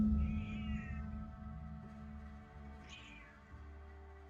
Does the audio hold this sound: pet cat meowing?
yes